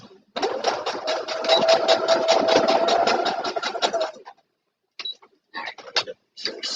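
A sewing machine stitches across fabric in a fast, loud, steady run for about four seconds. It stops, then restarts in short bursts of stitching.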